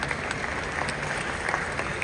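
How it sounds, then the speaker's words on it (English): Steady audience applause at a Diwali mela in an arena in Wellington, a dense, even wash of clapping from a large crowd lasting a couple of seconds. "Big round of applause, ladies and gentlemen."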